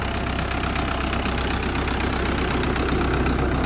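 A tractor's diesel engine chugs steadily nearby, a low rhythmic idle that holds constant throughout the short stretch.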